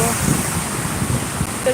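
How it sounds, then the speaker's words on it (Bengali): Heavy rain and strong gusting wind at Durgapur Barrage on the flooded Damodar river make a steady, dense roar of broadband noise with wind buffeting the microphone throughout. "আজকে হিউজ বৃষ্টি পড়ছে ছাতাও ধরে রাখা যাচ্ছে না এত হাওয়া দিচ্ছে"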